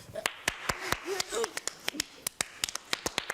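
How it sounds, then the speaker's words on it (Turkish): Sparse, irregular hand claps ring out one at a time, crisp and close, with a few people's voices murmuring faintly underneath. "Alkış yok mu alkış?"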